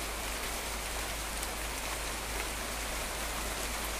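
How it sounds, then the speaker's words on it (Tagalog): Heavy rain pouring down steadily on a flooding vegetable garden, a dense close wash of drops drumming on surfaces, loud and unbroken with nobody speaking. "Sobrang lakas ng ulan"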